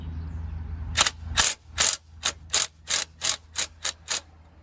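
A ratchet wrench works a bolt loose on a 50cc scooter engine, clicking in about ten sharp, evenly spaced bursts, close and clear against a quiet background.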